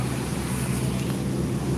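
A boat moves through floodwater along a flooded road, giving a steady low rumble with water and wind noise throughout.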